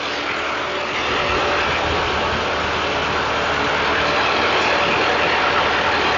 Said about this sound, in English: Kubota diesel engine. Very interesting. Driving through a belt driven through a Toyota 5-speed gearbox.